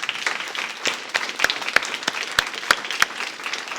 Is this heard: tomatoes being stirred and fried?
no